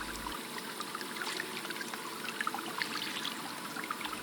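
Water flows and trickles steadily past crystal rocks, a soft continuous babble with small splashes, heard close and fairly quiet with no talking.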